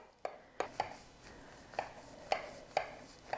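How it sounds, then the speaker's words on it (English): A sharp knife cuts through a baked Italian-American cheesy spinach pie into squares, producing several crisp, crackling pastry crunches at irregular intervals against a quiet kitchen background. "Use a sharp knife to cut the spinach pie into squares."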